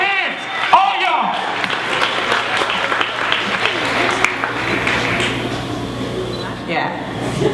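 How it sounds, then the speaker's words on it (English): Audience applause at a live performance, a steady wash of many hands clapping fairly close with crowd noise and voices over it, holding through the whole stretch and thinning slightly near the end. "I need everybody clapping."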